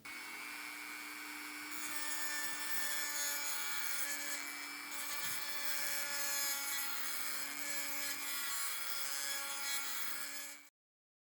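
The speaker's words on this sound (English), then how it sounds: "I used a grinding stone in my Dremel to remove the mushrooming." A Dremel fitted with a grinding stone grinds the mushroomed end of a vintage gimlet bit held in a vise, a steady high-pitched whine with a rasping grind that runs close and constant, then cuts off abruptly near the end.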